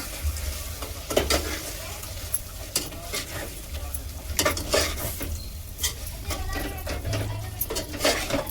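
Long-cut tomatoes fry in oil for Ambur-style mutton biryani, giving a steady close sizzle with intermittent stirring scrapes and light utensil clinks, no talking.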